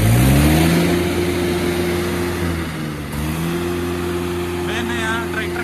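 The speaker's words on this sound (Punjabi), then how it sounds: "ਵੇਖਦੇ ਹਾਂ ਟਰੈਕਟਰ ਕਿਹੜਾ ਜ਼ਿਆਦਾ ਭੱਜੇਗਾ" Two tractors, a Sonalika 750 turbo and a Mahindra 415 turbo, race side by side, their engines droning steadily at high revs with a brief dip and recovery midway, a voice speaking over the roar.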